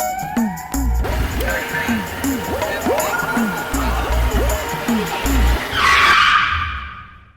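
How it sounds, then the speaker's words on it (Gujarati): A car brakes hard and skids, producing a loud run of repeated squealing tire chirps with low thumps, ending in a harsher burst of noise. "અરે શું થયું કેમ બ્રેક મારી ત્યાં આટલી જોરથી"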